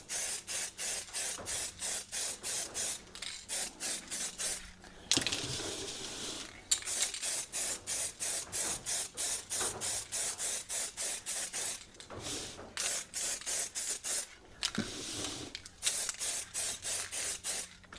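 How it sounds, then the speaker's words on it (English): Spray gun applying paint to car parts for a Galant hardtop, heard as a long series of short hissing bursts in a steady rhythm, broken by two longer continuous sprays, close and fairly loud with no talking. "Now we can paint."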